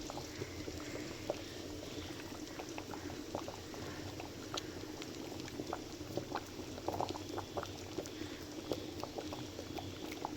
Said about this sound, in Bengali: দেখুন বন্ধুরা, খানিকটা ঘি দিয়ে দিলাম।